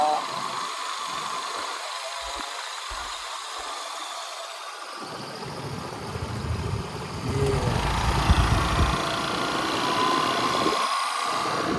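An Aprilia SR GT 200 motor scooter engine runs steadily, rising to a louder, rougher roar midway as it accelerates, with a low hum throughout.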